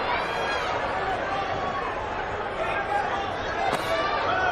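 Dense arena crowd murmur before the Ryan Garcia vs Mario Barrios boxing fight, a steady, even roar of many voices with a commentator talking over it.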